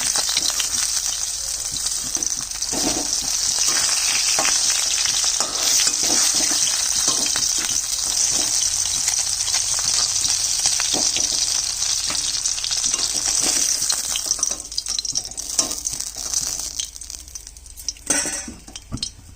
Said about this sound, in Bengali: আর 4টা আছে, এটা ভেজে নিচ্ছি।